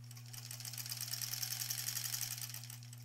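A sewing machine stitches a granny squares quilt in a continuous rapid mechanical whir with a steady low hum beneath, close but fairly quiet, over about three seconds with no talking.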